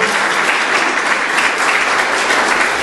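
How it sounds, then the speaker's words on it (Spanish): A church congregation at a Sunday service bursts into sustained, loud applause, dense clapping from many hands held at an even level for about three seconds with no voices over it. "Vamos a dar un gran aplauso a ese Dios poderoso"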